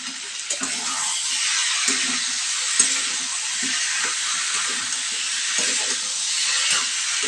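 Arum root and potato sizzle steadily in hot oil in a pan, a loud continuous hiss broken by occasional scraping stirs.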